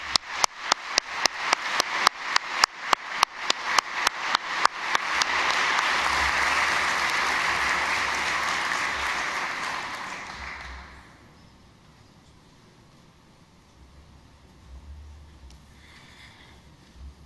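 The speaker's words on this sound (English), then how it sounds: "Please join me with the applause." Conference audience applause in a ceremonial hall, starting with a few sharp separate claps that swell into dense sustained clapping, then fading to quiet murmur after about eleven seconds.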